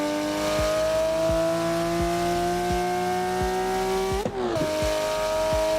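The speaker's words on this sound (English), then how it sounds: "We're driving the Porsche 992 GT3 RS." Porsche 992 GT3 RS engine in the Assetto Corsa video game howls at high, steady revs with sharp repeated gear-shift blips and a brief dip in pitch near the end, loud and close with no talking.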